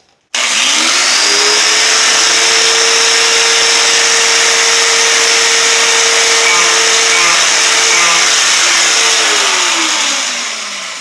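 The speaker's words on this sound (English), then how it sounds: "Always working the grinder on this side." Power grinder spinning up and running steadily on a vintage Gibson Les Paul Custom during restoration, a loud, sustained whine held for several seconds before winding down, with no speech.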